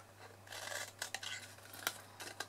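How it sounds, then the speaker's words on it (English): Scissors cut wedges for a gift box craft: a string of quiet, close snips and short slicing strokes with small pauses between them. "cut the next one in half, and then we cut our wedges"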